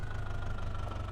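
An HMT tractor engine in Indian Vehicle Simulator 3D chugs with a rapid, even low knock, idling close and steady for a brief moment.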